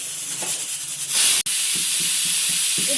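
A pressure cooker cooking dal on a low flame vents steam close by. A loud, sharp hiss surges up and then holds as a continuous rushing release.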